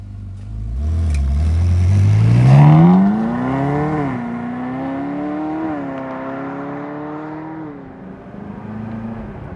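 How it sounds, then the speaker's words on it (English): A Ferrari California 4.3 DCT revs hard on a test drive, its engine note climbing sharply and then holding a loud, close, steady roar as it settles and eases off. "Just hearing it open up a bit, what a sensational sound."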